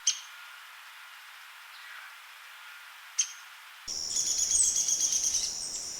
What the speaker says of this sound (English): Here's the call of the Downy woodpecker.